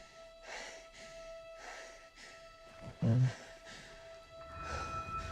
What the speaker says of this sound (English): Why is she heavy breathing?